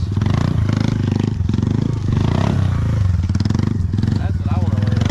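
A Yamaha Banshee ATV engine revs nearby with a rough, pulsing two-stroke rattle, rising and falling in pitch while people talk over it.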